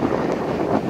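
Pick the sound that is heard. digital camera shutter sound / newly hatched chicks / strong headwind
strong headwind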